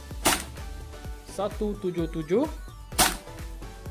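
Two sharp, loud cracks from a Well Tech M1 1911 airsoft pistol during FPS testing, one near the start and one near the end, with someone speaking between them.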